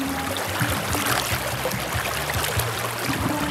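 Water running steadily inside Puning Cave in Doña Remedios Trinidad, Bulacan, a continuous close trickling and gurgling wash with no break, echoing faintly off the rock and heard alone.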